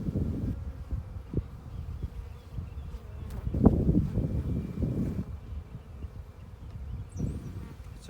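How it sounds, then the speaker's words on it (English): Honey bees buzz around an open hive during a hive inspection. The humming is close and continuous, with soft handling rustles and a few faint voices in the background. "I've got bees here."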